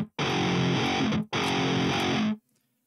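An 8-string electric guitar played through an Audio Assault Hexen boost pedal strikes two heavy, distorted chords. Each rings about a second before being cut off sharply, and near-silence follows.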